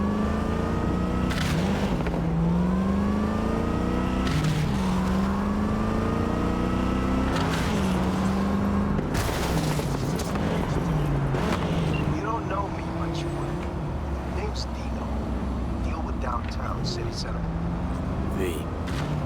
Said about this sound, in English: Car's got a crazy sound to it.